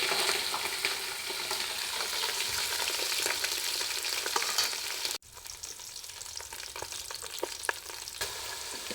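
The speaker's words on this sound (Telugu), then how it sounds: "మొత్తం కూడా ఫ్రైడ్ ఆనియన్సే వేసుకుంటున్నా. అన్ని ఫ్రైడ్ ఆనియన్స్, పచ్చిమిర్చి, పుదీనా అన్నీ కూడా వేసుకుంటున్నా ఒకసారి." Fried onions, green chilies and mint stirred into a pot of egg biryani, with a continuous soft sizzle and scraping stir strokes. A brief drop in sound comes midway, and no one talks.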